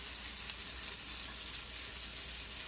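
Amberjack fillet searing in blackened butter, a steady, close hiss of frying that holds evenly throughout with no voices.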